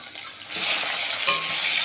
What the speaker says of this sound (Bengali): এই যে এদিকে মাছ ভাজা করে নিচ্ছি